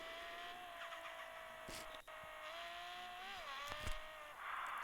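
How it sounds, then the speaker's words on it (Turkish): A new car pulls out into traffic. Its engine hums steadily, the tone climbing as it speeds up, with a couple of short sharp noises along the way. "Bugün yeni arabamla trafiğe çıkıyorum."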